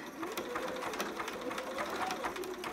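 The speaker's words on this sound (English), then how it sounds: "And stitch all the way around." A sewing machine zigzag-stitches elastic onto a romper with a fast, steady mechanical chatter, close and continuous, while someone talks over it.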